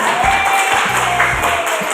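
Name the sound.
applause for group 3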